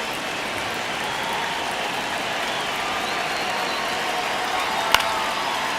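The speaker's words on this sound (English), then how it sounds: "Crowd getting settled here at Dodger Stadium." A baseball stadium crowd at Dodger Stadium in the video game MLB The Show 26 fills the air with a dense, steady roar of murmuring and applause, with one brief sharp crack standing out.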